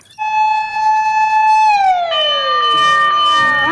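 Electronic siren of a toy fire truck wails loudly and close, a steady high tone with harmonics that then slides downward into a descending whoop, with no talking over it.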